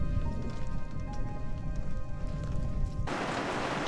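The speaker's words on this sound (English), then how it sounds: "Well, got some more rain already." Rain patters on a campsite in Arizona's White Mountains high country, a steady, dense sprinkle of drops on surfaces that swells into a louder hiss of heavier rain near the end, with no talking.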